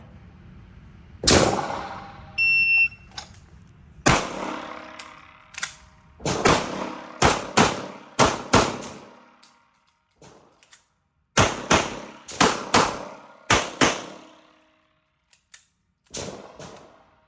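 Pistol shots fired at an outdoor range from a Beretta M9 or Sig M17, sharp loud cracks spaced irregularly, some in quick pairs or bursts of three, with quiet gaps and a brief electronic beep between them.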